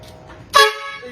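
A single loud car horn blast, bright and brassy, sounding briefly before fading into quieter background noise.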